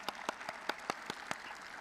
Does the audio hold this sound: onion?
no